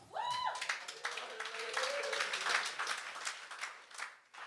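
Audience at a Gong Show stand-up set bursts into dense applause and clapping that swells quickly and fades over a few seconds, loud and close, with a voice briefly heard at the start.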